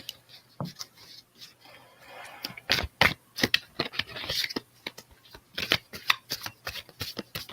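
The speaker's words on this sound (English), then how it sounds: "I'm going to pull one card for R, one card for Y, and then the final card is the relationship" Tarot cards shuffled and drawn during a live psychic reading, a run of crisp riffling flicks and sharp snaps close to the microphone, irregular bursts with brief pauses between, no voices over them.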